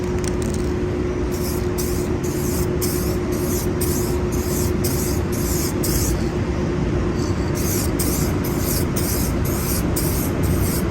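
Rattle-can clear coat sprays in repeated short bursts over a steady loud background hum, with gaps between passes as a DIY paint job gets its tack coat.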